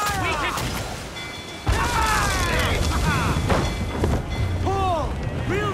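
Ship cannons boom in a naval battle in Assassin's Creed 4 Black Flag, a sudden heavy blast followed by rolling rumble and crashes, with shouted voices and whistling sounds over the din.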